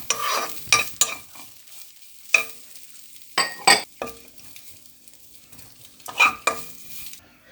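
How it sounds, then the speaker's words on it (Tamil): Grated coconut is roasted in a pan, with intermittent scraping and clinking of a spoon stirring it against the metal and quiet gaps between strokes, close and without talk. "அதே பாத்திரத்தில் தேங்காய் பூ கொட்டி வறுக்கிறோம்."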